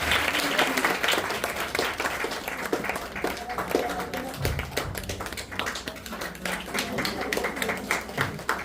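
Audience clapping steadily at an honouring ceremony for dignitaries, a dense, sustained applause with crisp individual claps close by and a faint murmur of voices beneath.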